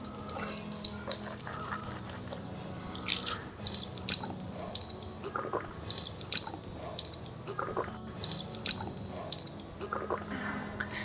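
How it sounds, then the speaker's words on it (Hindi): Water splashes and drips as the mouth is rinsed three times during wudu, with irregular clusters of wet sloshing and spitting under a running tap, close and fairly quiet. "3 मरतबा कुल्ली करेंगे।"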